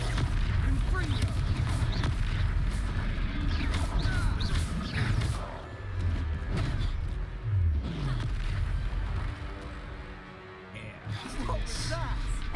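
Confringo blasting-spell explosions in the video game Hogwarts Legacy, a dense run of booming blasts and crackling impacts layered under game music and combat noise for over twelve seconds.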